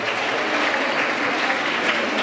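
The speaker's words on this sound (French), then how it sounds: "Applaudissez une fois de plus pour nos auteurs" An audience at an author event in the commune of Kimbanseke applauds in a thick, loud, continuous roar of many clapping hands, unbroken for the whole stretch.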